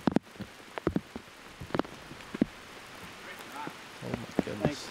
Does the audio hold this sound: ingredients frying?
no